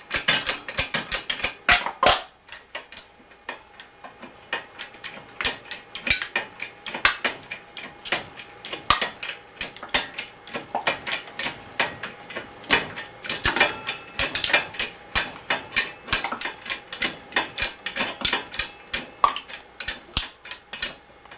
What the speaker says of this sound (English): Can crushing in action. Bottle jack, platform, upper anvil, and frame to hold it all together.